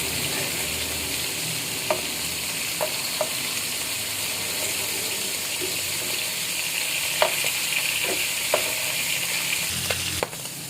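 Pork humba browning in a frying pan after being turned, a steady broadband sizzle running throughout with a few sharp clinks and scrapes scattered across it, close and fairly loud, with no voices.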